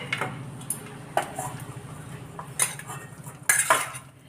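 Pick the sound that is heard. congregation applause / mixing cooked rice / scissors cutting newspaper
mixing cooked rice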